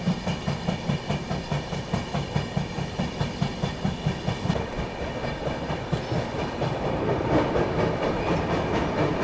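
Dibrugarh Rajdhani Express passenger train running on rails, with a steady rhythmic clickety-clack of wheels over rail joints under a continuous rolling rumble, close and moderately loud, no voices.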